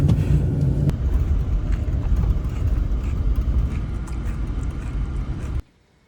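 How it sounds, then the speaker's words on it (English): A pickup truck drives on a road, a steady loud engine and road rumble running continuously before cutting off abruptly near the end, with no talk. "we're back in the truck and we're ready to head home"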